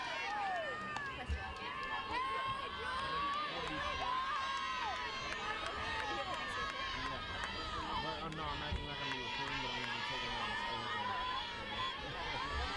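Crowd noise fills the stands at a high school softball game in Taunton, Hopkinton against Bridgewater-Raynham, a steady dense murmur of chatter and cheering with scattered voices, continuous and fairly loud throughout.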